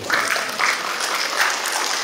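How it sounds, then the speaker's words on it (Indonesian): An audience at an Eid Syawalan family gathering gives a steady round of applause, a dense, even patter of many hands clapping throughout. "Kita berikan tepuk tangan untuk ibu."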